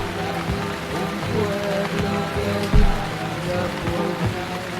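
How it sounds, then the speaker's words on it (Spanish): Rain begins falling at an outdoor ceremonial gathering, a loud, dense patter of drops on surfaces with a steady wash and occasional heavier splats. "acaba de empezar la lluvia"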